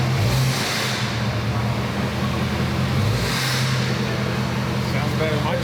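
A Ford Mega Raptor truck engine runs close by with a steady, loud rumble and two brief revs swelling and easing back, voices faintly underneath.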